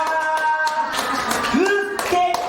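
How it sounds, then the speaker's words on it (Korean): A church congregation claps hands during worship praise, sharp bursts of clapping alongside sustained tones of music or singing and a voice running through it. "다시 박수 한번 시원하게 칠게요"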